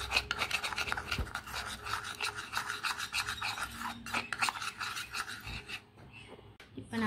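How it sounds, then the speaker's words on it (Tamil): Powder is stirred with water into a homemade paint, giving a close, continuous gritty scraping and rubbing that keeps a rough stirring rhythm, with a few brief knocks. "இப்போ நான் வந்து நல்லா பவுடர் நல்லா மிக்ஸ் பண்ணிக்கிட்டேன்."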